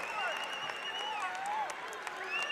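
A college basketball crowd at a Portland State vs Southern Utah game cheers and applauds in a continuous roar beneath a commentator's voice.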